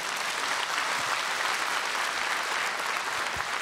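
A seated concert audience applauds, a dense, steady wash of many hands clapping together that stays loud and unbroken from start to finish.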